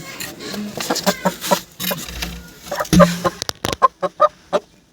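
A hen clucks after laying an egg, in a run of short, sharp calls that quicken toward the end, with scattered background noise and no talking.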